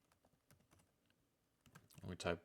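Commands being typed on a computer keyboard into a terminal while setting up a VPS web server: light, scattered key taps that build into a louder, denser burst of keystrokes near the end.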